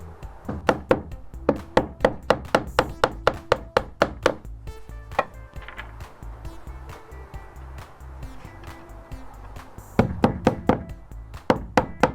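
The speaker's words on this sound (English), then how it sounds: "Again, I'm going to punch it from the front side." Sharp punching strikes through a roofing slate, about a dozen quick knocks in bursts, each a crisp wooden thunk, pausing midway and resuming, close and fairly loud with no talk.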